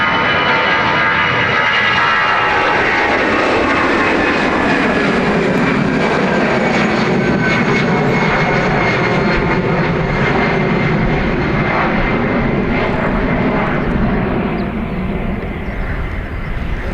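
A Eurowings passenger jet departs Dublin Airport bound for Dusseldorf, its engines roaring loud and steady throughout and swelling into a broad, sustained takeoff rumble with no voices over it.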